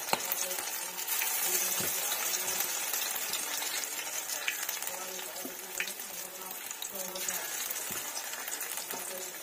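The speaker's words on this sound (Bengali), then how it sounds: "আর একটু ছোট ছোট করেই ভাজবেন পকোড়ার টাইপে" Small pakora-style fritters fry in a pan of oil, giving a steady, close, dense sizzle with faint crackles and occasional stirring clinks, with no talking.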